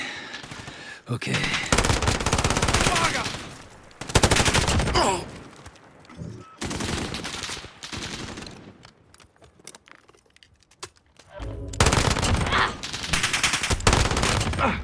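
Bursts of automatic gunfire from a gun in Call of Duty Modern Warfare, several sustained volleys separated by short pauses, loud and close, with faint voice underneath.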